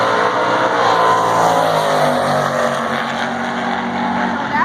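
Street-legal drag racing car, a Ford Pinto, roaring loudly down the strip with a sustained high-revving engine note that rises and shifts across the pass, close and continuous with no talk.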